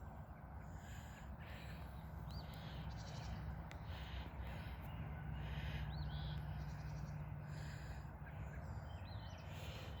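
Birds calling from trees outdoors, faint repeated calls and chirps scattered over a steady low background hum, distant rather than close.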